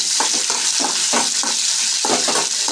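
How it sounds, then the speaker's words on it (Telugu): Green chillies frying in hot oil, a loud, close crackling sizzle with repeated bursts of spatter and stirring scrapes, about one every half second. "ముందుగా ఆయిల్ అయితే వేసాను, ఆయిల్లో అయితే పచ్చిమిరపకాయలు అయితే వేసుకుంటున్నాను"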